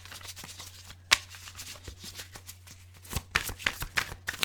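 Tarot cards being shuffled up close, a series of riffling bursts with soft taps and a sharper snap, over a low steady hum.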